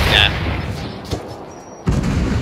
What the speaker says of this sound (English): Yeah, we're throwing grenades at you right now.